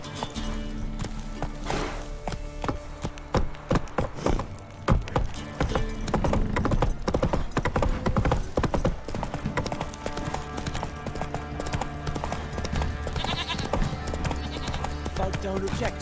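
Geralt's horse Roach galloping in The Witcher 3, a rapid, loud, close clatter of hooves continuing for the whole stretch, with voices and game music or effects mixed over it.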